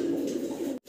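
A Sirazi pigeon gives a single close, sustained low coo that runs almost the whole moment before cutting off abruptly.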